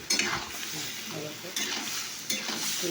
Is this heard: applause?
no